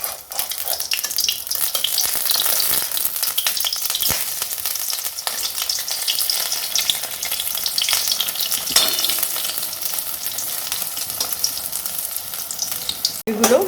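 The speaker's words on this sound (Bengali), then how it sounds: "একইভাবে আরও তিনটে আমি ব্যাটারে ডুবিয়ে দিয়ে দিয়েছি তেলে।" Battered pumpkin flower fritters deep-frying in hot oil, a loud, steady sizzle and crackle that fills the whole stretch, with a brief clatter near the end.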